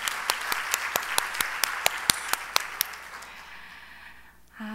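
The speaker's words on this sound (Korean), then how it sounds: "하나님께 영광의 박수를." Congregation applause at a Wednesday night church service, a burst of scattered hand claps with sharp individual claps standing out, fading over a few seconds into quiet.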